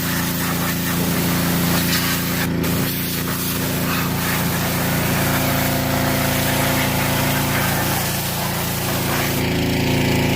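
A pressure washer's engine runs steadily while its jet sprays the tire of a zero-turn mower. The spray and motor make a loud, continuous wash of noise with no pauses for the full length.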